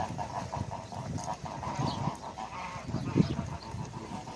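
A small flock of geese kept with sheep on a farm pasture honks repeatedly, irregular overlapping calls at moderate distance against a low outdoor background.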